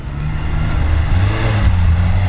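A turbocharged Lada Niva's engine rumbles on the move, a loud, continuous low drone whose pitch dips and then rises as it drives, with no talking.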